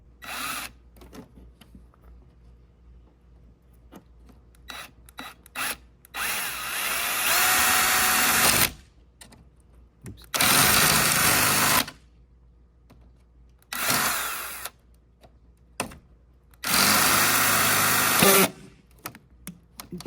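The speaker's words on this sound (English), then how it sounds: "Drill 4 more holes and we're good to go." A power drill whirs in several bursts, each lasting one to two seconds, separated by quieter handling noises and clicks.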